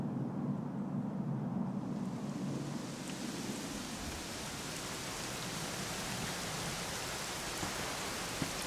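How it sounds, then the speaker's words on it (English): Steady rain in Dragon Quest XI S pours down in a dense, constant hiss, with low rumbling underneath and no voices. "it was raining like this the last time I ever saw her"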